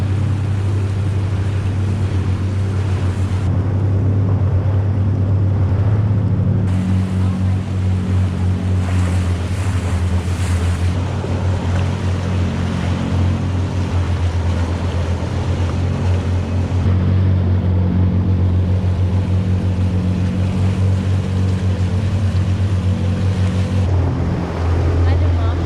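Jet ski running steadily across open water, a continuous loud engine drone with wind and splashing surf throughout, rising and falling slightly as it rides.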